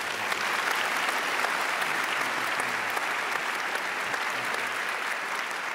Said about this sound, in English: we owe Richie a big round of applause for his work